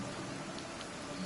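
Steady rain falling in a video game, a dense, even hiss of drops that continues unbroken at moderate volume with no talking.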